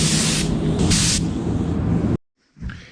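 Spray gun laying a second coat of paint on the fuel tank of a wrecked 2022 BMW S1000RR under rebuild, a loud steady hiss in long passes with brief breaks, then stopping abruptly with a short faint sound after.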